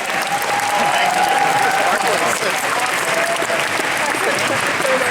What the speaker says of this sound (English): Big round of applause for our Xena.